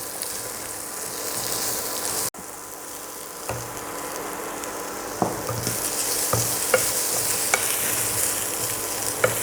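Tapioca (maravalli kizhangu) fries in coconut oil with a steady, hissing sizzle, punctuated by light clicks and scrapes of stirring and one brief dropout early on; no voices.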